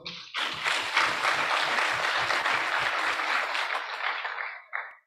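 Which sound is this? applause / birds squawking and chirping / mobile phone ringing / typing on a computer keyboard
applause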